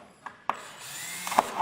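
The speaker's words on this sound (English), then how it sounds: "You gonna drill it or what?" A power drill bores into a part of a Cutlass during engine wiring work in a garage, giving short sharp bursts followed by a steadier grinding whir, fairly close, with no talking.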